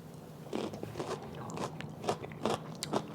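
Close, crisp crunching of stir-fried Chinese greens with oyster sauce being bitten and chewed, several irregular crunchy bites over a few seconds.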